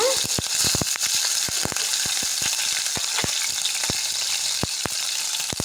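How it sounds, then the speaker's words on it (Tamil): Cumin and green chillies sizzle steadily in hot oil, a bright, even frying hiss broken by frequent sharp pops and crackles, close up. "அடுத்தது சீரகம் போட்டுக்கோங்க அதுக்கடுத்தது பச்சை மிளகா போட்டுக்கோங்க"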